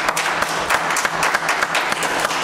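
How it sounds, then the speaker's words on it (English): A church congregation at a Sunday service claps their hands together in a dense, steady patter of overlapping claps, close and fairly loud throughout. "Give the Lord a hand clap this morning."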